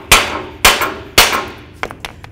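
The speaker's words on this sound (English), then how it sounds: "now we're just going to bonk on this area a couple times with our hammer just for a little bit of vibration" A hammer strikes a front lower ball joint on a 1998-2002 Honda Accord three times in an even rhythm, each blow a loud, close metallic bang, followed by a few lighter clinks.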